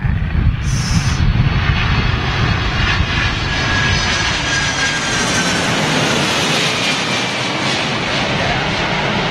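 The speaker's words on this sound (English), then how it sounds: "767 Delta Airlines." A Delta Airlines Boeing 767 jet landing at Heathrow in windy, stormy weather gives a loud, steady engine roar that stays constant throughout, with wind noise mixed in and no voices.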